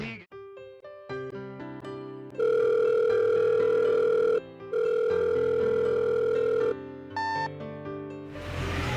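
A telephone sounds in loud, steady electronic tones, two long sustained pulses split by a brief gap, set among shifting musical notes and ending in a burst of noise.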